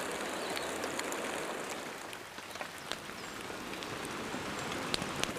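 Steady rain falls throughout, a dense hiss of drops with scattered louder patters close by on a hard surface.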